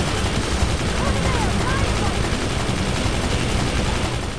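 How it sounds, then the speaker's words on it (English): Dense, continuous machine-gun fire in the heavy-metal action game Brütal Legend, a steady rattling roar that fills the whole stretch without pause, with a voice faintly underneath. "at least until I get new weapons that are in any way more interesting than the machine gun"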